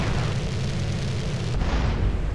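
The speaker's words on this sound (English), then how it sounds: "You can take him out with a rocket launcher too." A rocket launcher blast in Grand Theft Auto San Andreas, a loud, broad rumbling explosion that roars steadily with no clear break.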